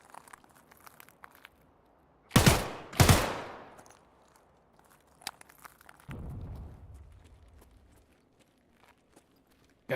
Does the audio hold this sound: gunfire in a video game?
yes